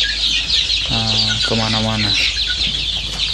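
Free-range village chickens cluck in a coop, a near, steady chorus of short calls over constant background hiss, with one brief harmonic call in the middle.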